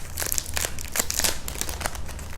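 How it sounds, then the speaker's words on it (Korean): Plastic packaging around a stationery notebook is torn open, giving close, loud crinkling and crackling rustles in quick bursts with no talking. "한번 뜯어볼게요"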